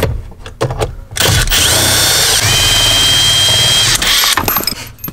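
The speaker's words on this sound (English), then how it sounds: "Get yourself an impact tool, yeah?" An impact tool whirs and hammers at a BMW panel bolt in a loud, steady burst of about three seconds, with shorter bits of tool noise before and after.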